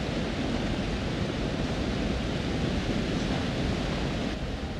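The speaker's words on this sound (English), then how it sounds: "And I can hear a waterfall." Steady rushing water from a waterfall in the horror video game Until Dawn, a dense, constant broadband roar that holds level and unbroken throughout with no voices over it.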